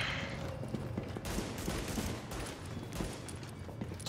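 Gunfire from The Division rings out as several sharp shots at irregular intervals over a busy combat background, with no speech.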